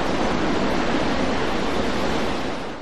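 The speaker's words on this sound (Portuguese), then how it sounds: "E há quem diga que não há outro mar como este, o da Nazaré, e as ondas que aqui dão à costa." Sea waves break on the coast at Nazaré, a steady, loud, broadband roar of surf with no gaps, the wash continuous throughout and easing only slightly at the end, with no voices.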